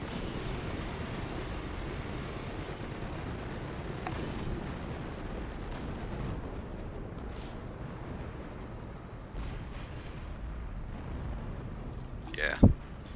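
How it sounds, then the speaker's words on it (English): Off-map artillery bombardment in a World War II strategy game rumbles as a continuous dense barrage of distant booms and explosions, with a sharper blast near the end and commentators talking over it. "here comes the off-map bombardment"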